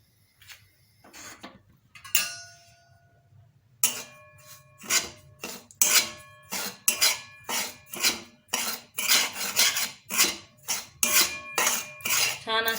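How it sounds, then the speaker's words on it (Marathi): A spoon clinks and scrapes against a hot kadhai while semolina (rava) is roasted for shira. It starts with a few sparse taps, then settles into a quick, steady rhythm of metallic strikes, close and clear, with no talk. "आता आपण सर्वप्रथम रवा हा भाजून घेऊ"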